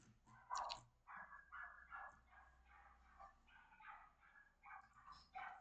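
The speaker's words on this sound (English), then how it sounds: "you can hear some dogs" Dogs bark in repeated short bursts, some yippy and whining, at a moderate distance against a quiet background.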